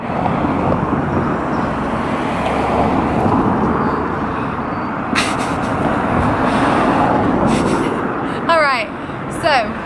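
Steady roar of cars and heavier vehicles crawling past in a traffic jam on a Yorkshire town road in Hebden Bridge, a continuous close wash of engine and tyre noise with people talking over it.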